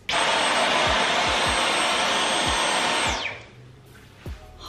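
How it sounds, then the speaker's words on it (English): A Dyson V11 Absolute cordless stick vacuum roars close up with a loud, steady high whine for about three seconds, then winds down to quiet, with a few dull low thumps along the way. "I'm gonna leave a direct link to the Dyson V11 Absolute"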